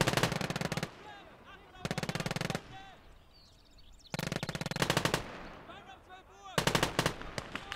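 Machine gun fire in the WWII strategy game Gates of Hell, heard as several loud, rapid sustained bursts separated by short pauses, with distant battle noise and faint chatter between them.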